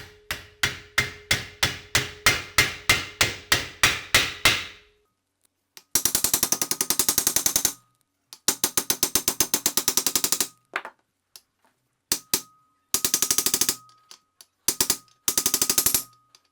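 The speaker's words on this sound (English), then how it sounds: "I just hammered in the hinge." Hammer blows drive the hinge into a Saiga-308 rifle while the PT1S dust cover is being installed: a rapid, steady run of sharp metallic strikes, then several dense bursts of quicker taps, loud and close.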